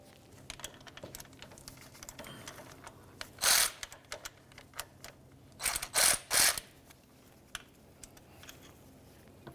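A ratchet loosening the four starter mounting bolts on a 2010-2013 Ford Transit Connect, soft intermittent clicks with a few louder bursts of rapid ratcheting, close up in a quiet workspace.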